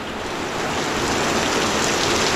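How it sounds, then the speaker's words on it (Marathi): Heavy rain pouring steadily outdoors in a village, a dense, even roar with no breaks that builds slightly over its short length, no voices. "बोलता बोलता मोठा पाऊस आला"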